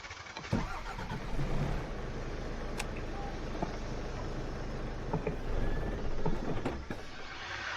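Iveco Stralis truck engine starting in Euro Truck Simulator 2, a faint, steady mechanical crank and idle with a few sharp clicks, running alone without voices.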